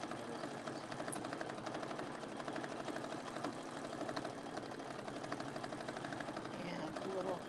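A sewing machine stitches a quilt at a steady, fast whirr that stays continuous throughout, heard at moderate level, with a faint voice now and then.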